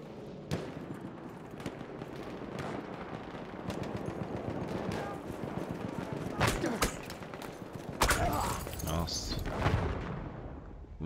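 Battlefield 1 multiplayer match on ultra settings, with loud machine-gun fire and fusillades rattling almost continuously and sharper blasts near the end, under intermittent speech.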